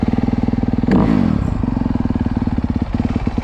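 A 2025 Honda CRF250R dirt bike on its stock exhaust idles with a rapid, steady, close thumping beat, broken by one sharp throttle blip before settling back to the even warm-up idle.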